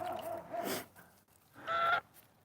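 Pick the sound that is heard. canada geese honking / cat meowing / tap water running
canada geese honking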